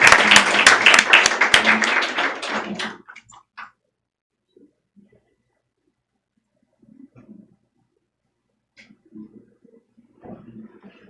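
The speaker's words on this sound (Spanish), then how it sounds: "Y un aplauso también para ustedes que estuvieron aquí" Dense applause from the audience at a Baja California transparency and privacy caravan event, loud for about three seconds before dying away into near silence broken by a few faint, scattered sounds.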